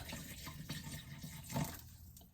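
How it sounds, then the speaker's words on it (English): Water poured into a container for a vegan protein smoothie, a steady close splashing flow lasting throughout with a brief louder gush midway, no talking. "first we're gonna put the water in there first"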